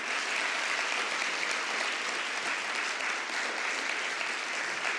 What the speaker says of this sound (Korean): 자, 큰 박수로 모시겠습니다.